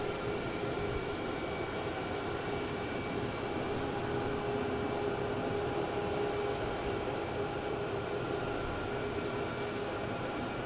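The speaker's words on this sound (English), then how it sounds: "Bombardier Challenger 3500" A Bombardier Challenger 3500 business jet roars steadily at an airport, a broad, loud, unbroken engine rush with a faint tonal whine running throughout, with no talking.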